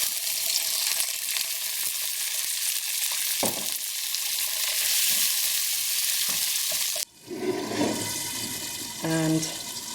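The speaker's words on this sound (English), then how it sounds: "cover it with a lid and leave it cooking for a few minutes on low heat" King prawn bhuna curry cooks on low heat in a lidded pan, giving a steady, loud sizzling hiss that drops quieter near the end, where a short tonal sound rings out.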